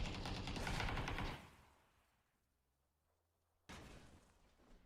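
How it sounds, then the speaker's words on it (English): Burst of gunfire in PUBG as a player sprays bullets at a pickup truck during a pro league grand final, loud and dense for over a second, then fading to near silence before a sharp impact near the end. "Bad ref wasted a lot of bullets."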